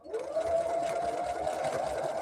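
A sewing machine stitching with a leader-ender thread catcher in use, its motor starting up and then running in a steady, rapid mechanical hum with fast needle chatter, close by and fairly quiet, with no speech.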